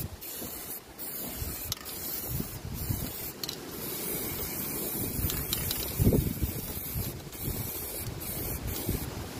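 Cavity wax is sprayed into the body of a rust-restored car in repeated hissing bursts with brief pauses, close and fairly steady throughout, with no speech.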